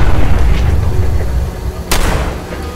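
Deep booming rumble of an explosion in the modded video game Fallout 4, with a sharp crack partway through, heavy low-end roar fading over a couple of seconds.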